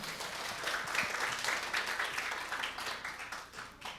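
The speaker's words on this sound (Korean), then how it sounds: "큰 박수 부탁드립니다." An audience at a school safety presentation gives a big round of applause for elementary school students, a full, continuous wash of clapping that swells and then gently tapers off.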